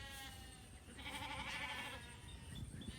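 Sheep out on a farm let out a drawn-out bleat in the middle, and fainter calls follow over low rustling background noise.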